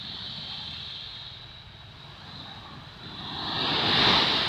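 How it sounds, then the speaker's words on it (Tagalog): Large sea waves roll on a calm, windless day, a steady broad wash of surf swelling louder toward the end, with no voices. "Kalmada siya, walang hangin pero malalaki yung alon niya."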